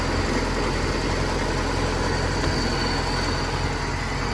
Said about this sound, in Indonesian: Kondisi mesin keadaan hidup.